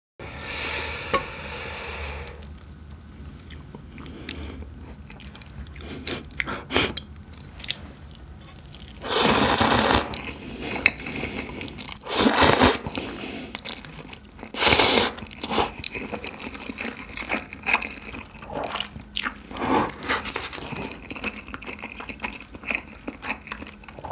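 Buldak fire noodles and a grilled chicken leg are eaten up close, with steady wet chewing and slurping broken by several loud, bright bites and crunches, no talking.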